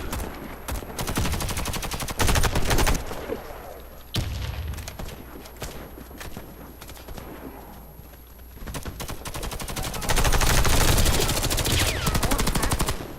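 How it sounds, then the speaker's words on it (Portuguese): Rapid automatic gunfire from the video game Warface, dense bursts and booming shots crowding the whole stretch, loudest near the end, with no talk over it. "Cara, deu tiro pra tudo que é lado."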